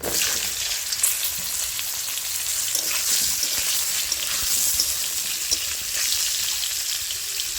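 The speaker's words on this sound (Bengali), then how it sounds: "ওই তেলেই আমি পটলগুলো ভেজে নেব" Pieces of pointed gourd (potol) fry in oil with a dense, crackling sizzle heard up close, steady throughout with small spatters and stirring clicks, and nobody speaking.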